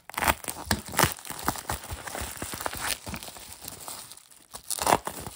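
Package wrapping crinkling and tearing as it is opened by hand, close, irregular bursts of crackly rustling with brief pauses.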